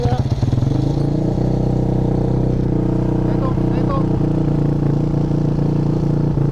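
A KFR two-stroke endurance racing motorcycle engine, 36 horsepower, holds a steady high idle, a loud continuous buzzing drone close by with a brief blip of revs at the start.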